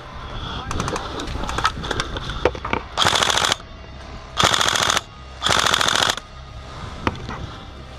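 Airsoft guns at an outdoor skirmish site, rapid automatic bursts in three long loud volleys between scattered single shots and clicks, with shouting voices in the background.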